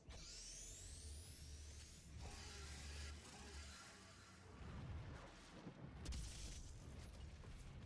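A Gauss Cannon in Doom powers up with a rising whine, then mechanical clicks and heavy booming blasts follow, loud and close.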